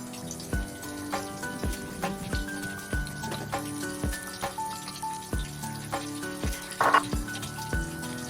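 Small anchovy fish bajji frying in hot oil, a steady close sizzle with regular clinks and scrapes from pieces being turned one by one.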